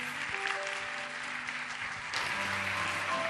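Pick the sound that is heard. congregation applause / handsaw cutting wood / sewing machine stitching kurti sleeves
congregation applause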